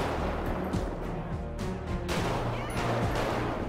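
Gunshots in the video game GTA 5 during a military and SWAT police patrol, rapid sharp cracks and impacts packed closely together over a few seconds, amid game background noise.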